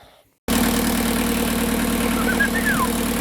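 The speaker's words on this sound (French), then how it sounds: "J'espère que t'entends le doux son de ce moteur" A Citroën C15 van engine starts up after a brief quiet moment and settles into a steady, close, rough idle with a constant low drone and faint knocking texture.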